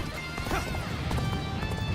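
A war horse gallops in the Dynasty Warriors Origins video game, its hooves clattering loud and continuous beneath a dense wash of battle noise and clashing impacts.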